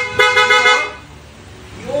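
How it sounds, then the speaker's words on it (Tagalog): A newly installed car horn gives one loud, close blast of about three-quarters of a second, then trails off into quiet background noise. "Bago na yung busina natin mga co-clubs"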